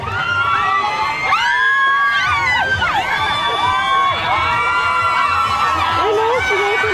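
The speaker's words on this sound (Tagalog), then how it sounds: "Sisigaw sila, oh." A crowd of riders on an amusement park ride screams and shrieks in overlapping, sustained high cries, loud and near, with whoops rising and falling throughout over a dense background din.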